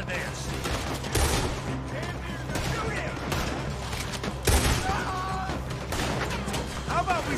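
Gunfire from an outlaw shootout in Red Dead Redemption 2, with sharp shots cracking repeatedly over several seconds, some bursts louder and closer, mixed with shouting voices and game background noise.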